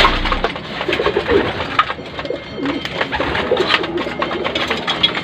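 Pigeons coo in a loft, some imported birds among them, with repeated soft, throaty calls and rustling close by over a low background rumble.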